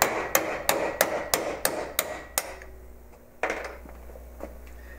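A hammer knocks a U-joint on an MGB driveshaft, loud close metallic whacks coming about eight times in a quick, steady rhythm, then a pause and one more strike.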